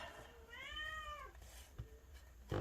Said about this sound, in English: She's the most loved kitty in the whole wide world.